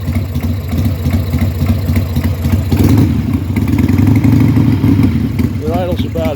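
A 1991 Harley-Davidson Sportster's engine idles steadily with a low, lumpy rumble close by, with someone talking over it toward the end.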